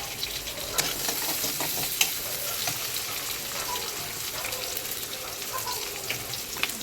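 Chopped tomato and green chili frying with eggplant give a continuous close sizzle, with light stirring clicks scattered throughout.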